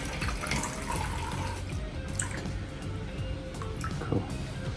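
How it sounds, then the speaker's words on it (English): Tap water runs steadily into a darkroom sink being filled halfway for film developing, a continuous close splashing rush with small drips, no talking. "what I'm doing right now is to fill the sink halfway."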